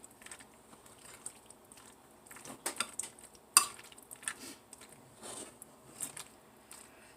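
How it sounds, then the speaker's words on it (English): Chopped tomato being stirred into pasta in a pan, with a utensil softly scraping and clinking against the pan and one sharp clink partway through, close and quiet with no talking. "So in goes the rest of the tomato. And I'm just going to mix that up in there."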